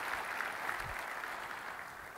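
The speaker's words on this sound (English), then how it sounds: "give them a round of applause for doing that" An audience applauds the sponsors at an economic forecast event, a soft, even spread of many hands clapping that sounds distant and fairly quiet, continuous throughout with no voices on top.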